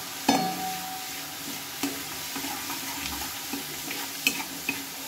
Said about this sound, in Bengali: লাল লাল করে একটু ভেজে নেব।